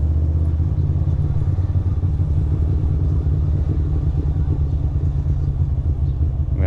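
A motorcycle cruises steadily through city streets, its low, even engine rumble close and continuous with a light clattering texture.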